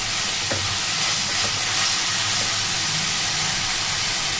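Tomato paste masala sautéing in a pan for egg curry gives a steady, fairly loud broadband sizzle with faint stirring scrapes, and no voices.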